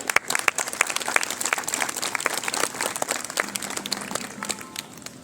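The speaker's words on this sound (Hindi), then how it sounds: "एक बार जोरदार तालियां।" Loud, dense applause from a crowd at an outdoor yoga event at Rock Garden, Chandigarh, many hands clapping at once in a steady wash that carries on the whole time with no talking.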